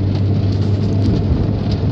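Steady rain falls with a dense, even hiss and a deep rumbling undertone, close and fairly loud throughout with no voices.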